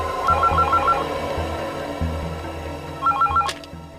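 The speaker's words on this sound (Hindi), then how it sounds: "ये किसका फोन आ गया?" A telephone rings indoors in two bursts of rapid trilling warbles separated by a pause, heard over low room noise, in a Hindi crime drama scene.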